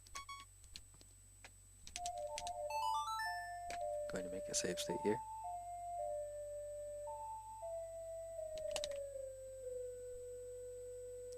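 A series of clear electronic video-game chimes rings out, notes stepping downward and holding, with brief clicks and short bursts of game noise, while someone talks over them.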